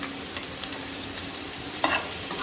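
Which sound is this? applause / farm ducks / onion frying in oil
onion frying in oil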